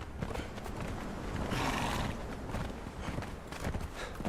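A horse in the video game Conan Exiles neighs loudly among steady clip-clopping hooves, with game ambience filling the background.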